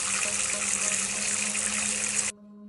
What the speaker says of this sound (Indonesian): keran air di kamar mandi tiba-tiba menyala